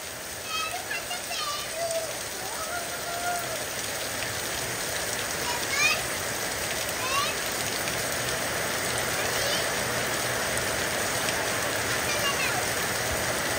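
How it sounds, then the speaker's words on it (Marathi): Heavy rain pours steadily in a village at Pali, Ratnagiri, a dense hiss of drops on surfaces, with people talking and calling out now and then underneath. "ओ पाऊस कडक."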